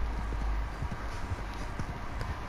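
Horse hooves clip-clopping at a steady gait in Red Dead Redemption 2, a continuous rhythmic thud of hoofbeats over low rumbling ground noise, close and moderately loud, with no talk.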